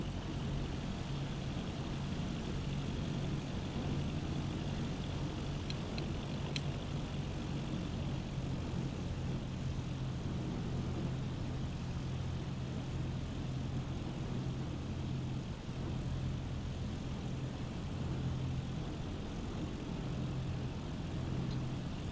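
A Cessna 172 in Microsoft Flight Simulator 2020 taxis at night, its piston engine and propeller giving a steady, unbroken low drone that stays constant and fairly quiet for the whole stretch, with no talking.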